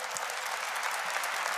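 A church congregation claps steadily, a dense wash of applause with no pauses from start to finish.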